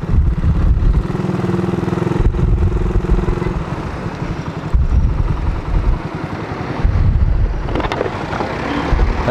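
A motorcycle with an old 28mm PWK carburetor runs loud and close during tuning, idling with a rough, uneven rumble that rises and falls in several revs, with wind buffeting the microphone.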